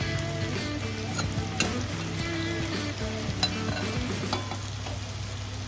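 Marinated chicken frying in a pan for homestyle chicken tel jhal, a steady close sizzle with occasional scraping and clinks as the pieces are stirred, sounding continuously with no talk.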